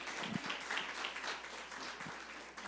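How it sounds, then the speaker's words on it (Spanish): Audience applause for a pastor at a church conference gathering, a soft, steady wash of clapping that stays fairly distant and faint throughout, with a few sharper individual claps standing out. "le diéramos un fuerte aplauso"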